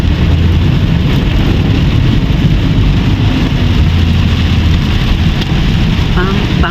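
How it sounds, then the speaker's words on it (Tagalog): Steady rain during flooding in Puerto Princesa City falls as a constant, dense hiss that fills the scene from start to finish, with a low rumble of traffic underneath. "It's raining."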